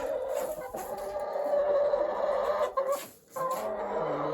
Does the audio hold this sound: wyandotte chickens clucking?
yes